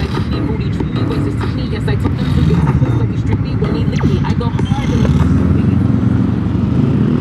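Motorcycle engine heard on a city street by Quezon Avenue in Manila, a loud, continuous throbbing rumble close by with traffic noise, while a person talks over it.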